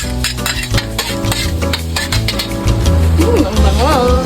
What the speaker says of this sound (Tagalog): Ang bango talaga pag nagigisa ng bawang.